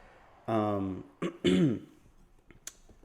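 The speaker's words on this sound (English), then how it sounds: "just clearing my throat like I got something important to say." A person clears their throat twice with rough, voiced rasps, close up, followed by a brief quiet.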